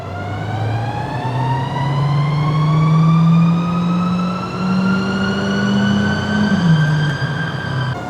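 Car engine held at full throttle on a chassis dynamometer rolling-road test, with the intake modified by walnut-shell blasting; a loud, steady drone climbs gradually in pitch from about 1200 rpm, sustained throughout with no talking.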